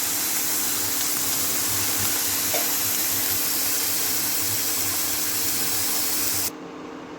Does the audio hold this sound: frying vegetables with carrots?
yes